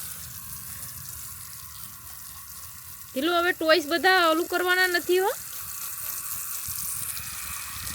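Water poured onto a bed of fenugreek plants in a home garden, a steady gush and splash that continues throughout, while a person talks briefly midway over the flow.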